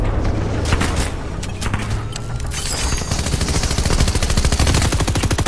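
Rapid bursts of gunfire from a video game fight, loud and sustained throughout with dense overlapping shots and booms, the firing growing busier toward the end.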